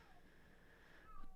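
A cat meows faintly in a quiet room, its thin tonal cry rising briefly near the end and standing alone without talk.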